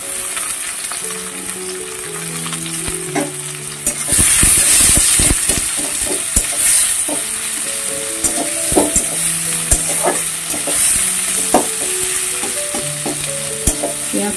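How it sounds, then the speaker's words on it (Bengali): Onions fry and are stirred in a pan for an egg curry, with a steady sizzle and hiss throughout and repeated scraping, clinking stirs that become louder and busier midway, close to the pan with no talk. "পেঁয়াজটা অল্প একটু ভাজা হলে এর মধ্যে দিয়ে দেবো ডিমটা"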